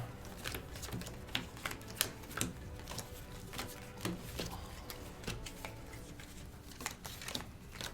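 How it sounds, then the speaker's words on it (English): Cards for the Aeon's End cooperative board game being shuffled at a table, a steady run of soft riffles and sharp flicking snaps, close and fairly quiet, with no voices. "We're shuffling."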